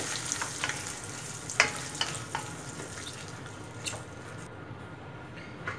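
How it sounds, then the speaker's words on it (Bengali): Shrimp fry in a pan with a quiet, continuous sizzle, punctuated by scattered soft clicks and scraping sounds of stirring at irregular intervals. "চিংড়ি মাছগুলোকে আমি একটু লাল করে ভেজে নিব"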